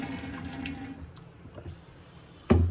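Water being poured off cooked Maggi noodles into a sink: a soft, steady trickle and splash near the microphone, ending in a sudden louder gush and clatter.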